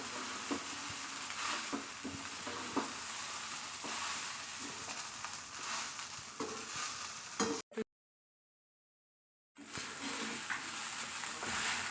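Sabudana (tapioca pearls) with crushed peanuts roasts in a pan, giving a loud, continuous sizzle with scraping stirs. It cuts to silence for about two seconds, then the sizzle resumes. No voices are heard.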